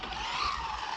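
A Maverick Quantum R Flux RC car skids as it loses grip, a loud steady whine of motor and tire scrub running continuously through the moment, close and unbroken.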